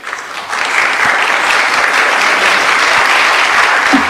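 Strong audience applause at an international bicentennial conference, swelling quickly after a brief quieter start into steady, dense clapping from a large room.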